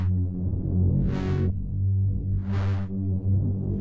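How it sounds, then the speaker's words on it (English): A low, rumbling granular synth pad, heavily distorted, drones steadily, with two bright swells of hissy, gritty overtones rising and fading. "I'm kind of intentionally going for this rumbling kind of pad sound."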